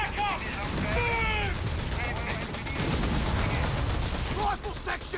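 Dense, continuous battlefield gunfire from the video game Company of Heroes 3, with rapid rattling bursts throughout and soldiers' voices shouting over the shooting.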